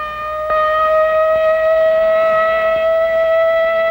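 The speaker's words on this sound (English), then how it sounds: "But tomorrow, this siren may mean the real thing." A civil defense siren wails with a loud, sustained steady tone that starts abruptly and holds for several seconds, heard alone without voices.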